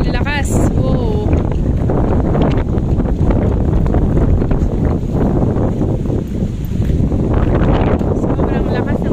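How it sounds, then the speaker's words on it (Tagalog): Strong wind roars and buffets the microphone without letup, a loud rumbling rush that swamps everything, with a brief voice heard at the start. "So windy today."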